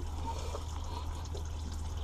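Steady running water pours and splashes continuously from a boat's water tank, close by, over a low constant hum from a building water pump, with no voices.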